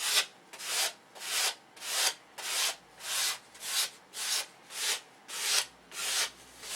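A hand sanding block rubs across wood in about ten even back-and-forth strokes, each a close, rasping swish with brief pauses between.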